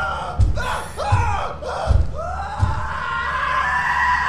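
Repeated shouting sound effect from a Minecraft video game, a loud crowd-like battle cry that swells and breaks off several times before settling into a sustained yell.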